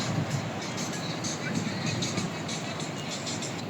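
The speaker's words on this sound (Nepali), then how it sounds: "हाम्बुकको मेट्रो" A Hamburg metro train gives a steady rumbling drone with faint rhythmic rattles, heard from inside under people talking.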